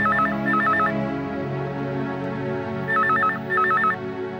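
A telephone rings in a Marathi TV drama scene, two bursts of trilling electronic rings separated by a pause, loud and close over a steady background hum.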